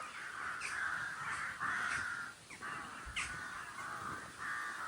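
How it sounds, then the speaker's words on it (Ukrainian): Crows caw repeatedly in harsh, drawn-out calls at a moderate distance, overlapping in an irregular rhythm over faint outdoor background noise. "десь там каркають, а вони полетіли"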